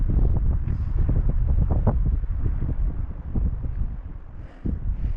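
Strong storm wind gusts buffet the microphone in heavy low rumbles, swelling and easing over several seconds.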